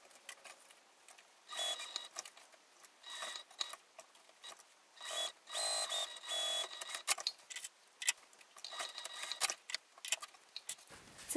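A sewing machine stitches a zipper onto a lining panel for a small crossbody bag, running in several short bursts of rapid mechanical whirring separated by brief pauses, close and fairly quiet.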